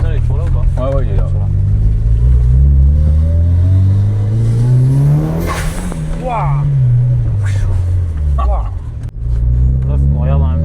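A Mitsubishi Lancer Evolution engine, out of order and under repair, runs loud and close, swelling in one long rev and then settling back, with people talking over it.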